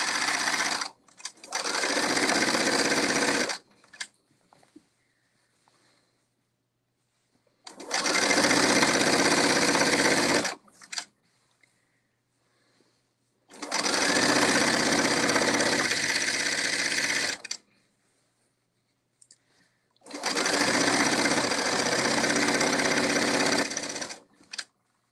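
A sewing machine stitches the bottom hem of a kimono robe in four long, loud, steady runs of a few seconds each, separated by quiet pauses, with no talking.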